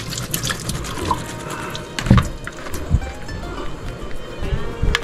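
Rinsed cooked food pours into a bowl with wet, splashing, dripping sounds, loud and close, a few heavier plops standing out against running liquid.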